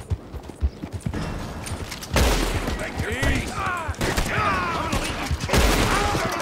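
Gunfire in Red Dead Redemption 2 rings out in a scattered volley of sharp shots over a game soundtrack, with horse hooves clip-clopping nearby and several loud bursts arriving around the middle of the stretch.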